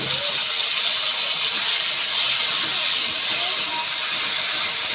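Grated tomato hitting hot oil in a pan while cooking a vegetarian potato and pointed gourd curry gives a steady, loud, close sizzle that holds evenly throughout, with no talking.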